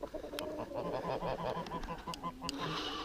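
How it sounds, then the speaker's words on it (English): Geese and fowl on a farm: a cluster of honks and clucks in quick repeated bursts, close by and moderately loud, with a faint voice in the background. "So we still got 5 geese in here."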